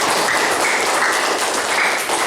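A classroom of students claps in dense, steady applause, loud and continuous throughout with no voices heard.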